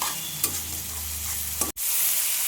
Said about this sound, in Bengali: এবার ইলিশ মাছের মাথাটা দিয়ে দেওয়া হলো দিয়ে একটু নেড়ে চেড়ে নিতে হবে